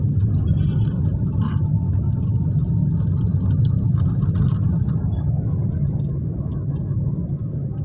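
Dense road traffic on a Sunday street heading toward Biñan, seen from a motorcycle: a steady low rumble of car and engine noise from many vehicles, loud and continuous throughout with no talk.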